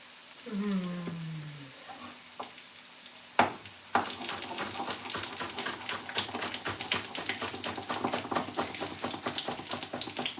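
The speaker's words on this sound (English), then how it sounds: "Alright, let's cut this one quick." A knife chops vegetables for soup on a board in a quick run of sharp, regular taps that go on for several seconds, close and moderately loud after a few brief opening noises.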